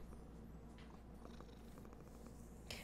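A cartoon cat pet in the card game MTG Arena purrs softly in a low, continuous rumble, faint and close, with a few small chimes and clicks of game interface sounds over it.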